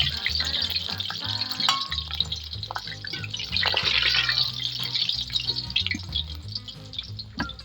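Plantain roast sizzles and fries in a pan with occasional stirring scrapes, a steady close crackle throughout.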